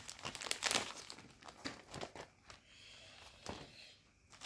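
Paper budget envelopes being pulled out and handled, giving close, soft crinkling and rustling in uneven bursts with brief pauses between.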